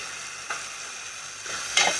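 Chili sauce and tomato sauce are stirred together in a frying pan while cooking Maggi noodles, a soft sizzle under occasional scraping strokes of a spoon, close and moderately quiet, with no talking.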